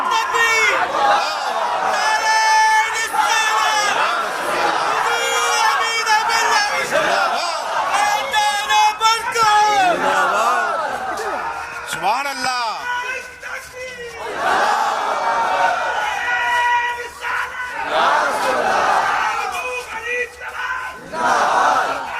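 A large crowd at an Urs religious gathering chants slogans in loud unison, a dense roar of voices that swells and surges across the whole stretch, with a speaker's voice cutting in between the chants.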